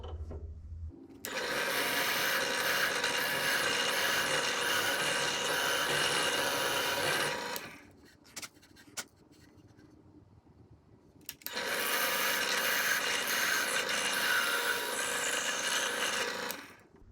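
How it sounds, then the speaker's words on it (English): Steady loud whirring of a drill press with a 1/2-inch Forstner bit boring into wood, running for several seconds, stopping briefly, then cutting a second hole. "I'm going to drill two holes with this 1/2" Forstner bit"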